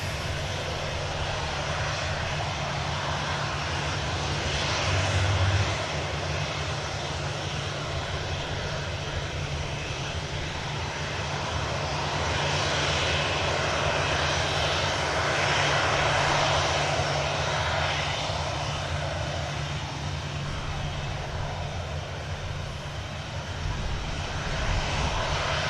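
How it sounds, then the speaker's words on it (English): A Jet2 airliner with derated engines takes off after a long runway rollout, its engines roaring loud and continuous throughout with a broad, rumbling swell and no voices. "Jet 2 long rollout, as you would expect. D-rated engines and steady rotation, using quite a bit of runway."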